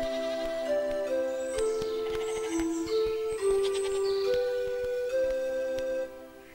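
Goats bleating in an animated children's story about a young goatherd, a melodic, wavering cry that rises and falls over several seconds under a musical background, fairly loud and close, with no talk.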